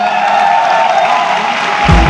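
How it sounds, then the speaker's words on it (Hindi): A live audience at a talk gives a short burst of steady applause for the speaker's wife, a dense even wash of clapping with a low thump at the end. "आई वांट कि एक बार जोरदार तालियां हो जाए उनके लिए।"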